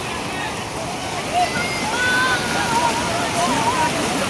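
Restless river water rushing below a rubber dam bridge in Dinajpur, a dense continuous roar close by, with someone speaking faintly under the flow.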